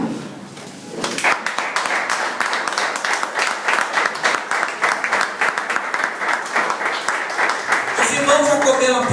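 A church congregation applauds steadily for several seconds, dense rhythmic clapping that fills the room, with a quiet voice beneath before it starts and speech rising as it fades near the end.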